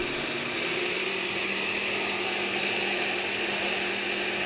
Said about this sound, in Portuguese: já liga o liquidificador para já ir misturando direitinho